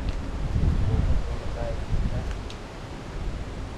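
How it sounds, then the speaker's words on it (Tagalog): Steady rumbling wind buffeting the microphone outdoors, a low continuous roar with faint rustling. "Malakas yung hangin ngayon guys"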